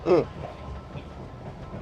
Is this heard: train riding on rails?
yes